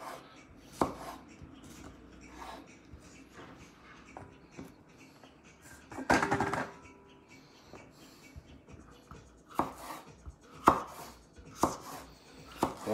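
Vegetables being sliced by knife on a cutting board for a rabbit dish, with sharp, irregular chopping knocks, close and clear, spaced in small clusters against a quiet kitchen background.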